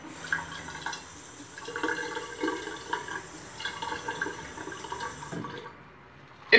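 Water is added to a bowl of sandalwood shaving cream as the lather is whipped, with trickling and splashing followed by wet, squelchy brushing sounds at moderate volume and no speech.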